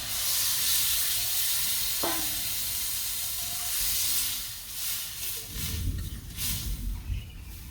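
Water poured into a hot curry gives a loud, steady hiss of sizzling and steam that gradually eases, then breaks into crackling, bubbling spurts as it settles.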